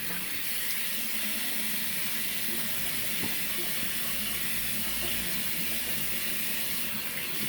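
Water pours steadily from a tap, a constant close hiss and splash with no pauses or talking.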